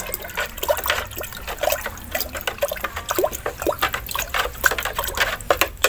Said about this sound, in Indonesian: Kalau gitu selanjutnya kita aduk.